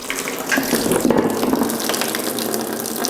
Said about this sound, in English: Water is going to come flying out here.